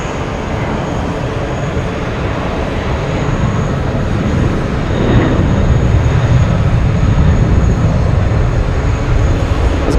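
Boeing 757 airliner at JFK airport, a loud, continuous low engine rumble that swells slightly partway through, heard from nearby without talking.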